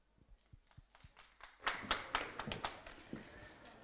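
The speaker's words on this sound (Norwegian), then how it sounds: "Ok, da gir vi en applaus." Audience applause for a climate researcher at a science relay event: a few scattered, separate claps at first, then swelling into denser, moderately loud clapping from a small crowd.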